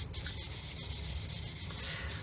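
A sanding stick rubs back and forth along a long seam on a 1/144 Revell Apollo Saturn V plastic model kit, making a soft, continuous scratchy hiss, close and quiet, with no talk.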